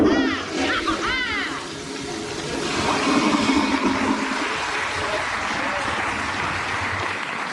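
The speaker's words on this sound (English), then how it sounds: "Did she just flush herself down a toilet, Chris?" A toilet flushes with a loud rushing, swirling gush of water that fills the whole stretch, preceded by brief voice-like sounds over the water.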